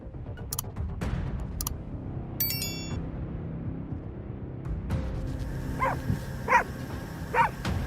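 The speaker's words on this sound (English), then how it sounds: "They are pack dogs, sensitive to smells, and often bark loudly to warn from a distance." Pack dogs at a camp barking to warn off polar bears, a few sharp barks spaced apart near the end over steady outdoor noise, with clicking sounds earlier.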